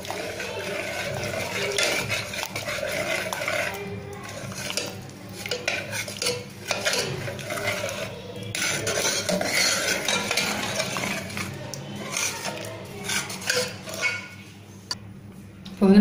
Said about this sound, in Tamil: இந்த மாதிரி குளிக்கரண்டி போட்டு நல்லா பருப்பு வந்து இந்த மாதிரி தக்காளி பருப்பு எல்லாத்தையும் நல்லா மசிச்சு விட்டுருவோம்